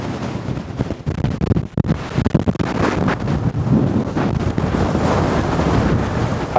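Wind buffets the microphone on an exposed London rooftop, a loud, steady roar with rough gusting surges throughout.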